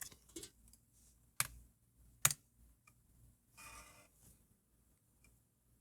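A PC floppy drive writing a Mac disk through a Greaseweazle, with noise from the disk shutter and hub: quiet, sparse ticks and a few sharp clicks, plus a brief soft whirring burst, close and alone.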